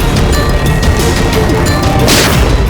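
Loud gunfire in a tense police standoff with a crime unit, a dense burst of booming, crashing shots filling the whole stretch, with a sharp heavy blast near the end.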